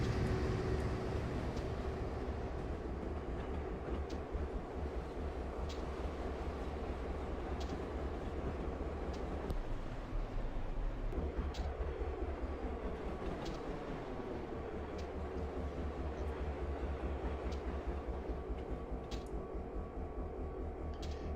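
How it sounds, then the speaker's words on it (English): A computer-controlled train passes by in the Train Sim World game, giving a steady rolling rail rumble with a clear shift in tone about halfway through as it goes past, and no talk over it. "some AI train going by."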